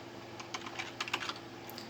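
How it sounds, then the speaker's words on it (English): Keys on a computer keyboard are pressed, a short burst of quick, light clicks close up in a quiet room, as for a save shortcut. "Save the document by pressing Ctrl S"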